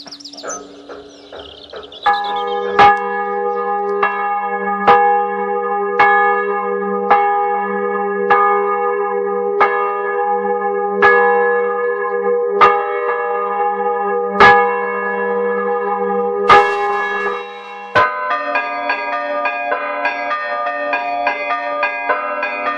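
Church bells of Badiola ringing the rinterzo and falsetto patterns, a steady sequence of loud, resonant strikes about once a second over a sustained hum, with a brighter bell change near the end; no voices.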